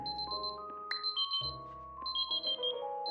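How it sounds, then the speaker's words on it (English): Pulsed high electronic alarm beeps repeat in bursts from Superliminal, sounding over steady sustained tones and low hum, with no talking. "can they stop about the alarm noise? I hate that noise."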